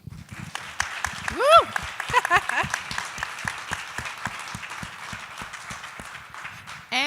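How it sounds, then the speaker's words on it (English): Audience at a jazz fellowship award presentation claps and cheers, with scattered sharp claps across the clip, a loud whoop near the start and voices mixed in. "Round of applause."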